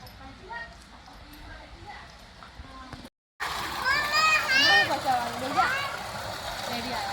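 Children splash and play in a small resort swimming pool, with steady watery splashing and excited kids' voices and chatter close by, after a brief cut in the sound.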